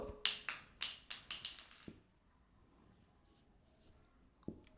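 Chalk or marker tapping and scratching quickly on a board while Arabic letters are written, a burst of about eight sharp strokes followed by quiet, then one more tap.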